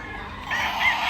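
Chickens at a chicken farm give two brief, fairly faint calls over a steady hiss of outdoor background noise, with no one talking.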